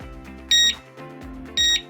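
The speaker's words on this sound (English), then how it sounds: "on the siren itself, you want to hold down the set button for 2 beeps" An OSI strobe siren emits two sharp, loud electronic beeps about a second apart while its set button is held down, with a low hum running underneath between them.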